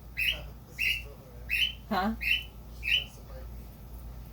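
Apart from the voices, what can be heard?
pet bird squawking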